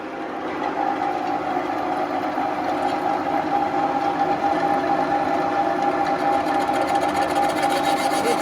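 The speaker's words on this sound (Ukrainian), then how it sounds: "Ага, шпиндель. Включив і запускаю. Тепер ручна подача." Lathe spindle turning under manual feed while a 1938 DKW crankcase is restored, producing a continuous, even mechanical hum with a steady whine that holds at a constant level throughout, with no speech.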